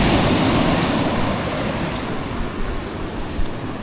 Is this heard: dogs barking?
no